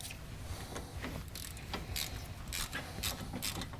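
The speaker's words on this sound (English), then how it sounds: "And now Clive will do the honours with a ratchet" A ratchet tightens the brake caliper bolts on a car, giving quiet, rapid clicking bursts in a repeated rhythm against faint workshop background noise.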